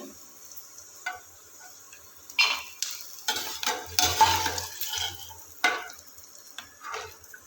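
Ingredients roasting in ghee in a pan over a gas flame, with a soft continuous sizzle broken by spatula scrapes and clinks against the pan at an uneven, stirring rhythm, close by.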